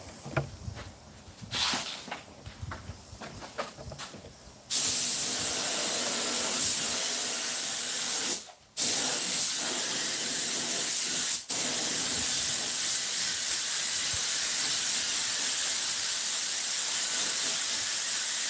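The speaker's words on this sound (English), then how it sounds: "with a spray can, it takes a lot more to spray" A steady, loud hiss of an aerosol spray can painting a 1950 Ford truck seat runs continuously for a long stretch, briefly interrupted twice, after a few quieter clicks and rustles.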